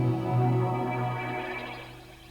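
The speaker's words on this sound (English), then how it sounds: "suddenly we sound like we're in the middle of the Amazon forest somewhere with birds and water just going on all over the place" Kurzweil K2000 string sample processed into a jungle-like texture of bird calls and water, a dense shimmering layered wash that swells early then slowly fades, with no talking.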